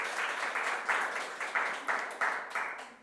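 Applause for an award winner at a digital green technology conference livestream: continuous crowd clapping swelling in repeated waves, fairly even and moderately loud, with no voices over it.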